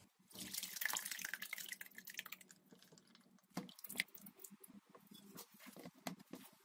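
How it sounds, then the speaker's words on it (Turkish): Homemade water-and-honey vinegar being poured into a strainer: a faint trickling pour, then irregular dripping and small liquid splashes, close and quiet. "Sirkemi içine döküp süzmeye başlıyorum."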